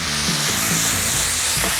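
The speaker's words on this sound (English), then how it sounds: "Want to brown all that pork off." Diced pork browning in a hot pan with garlic, chili and onion, giving a steady close, dense sizzle with faint stirring scrapes and no talk.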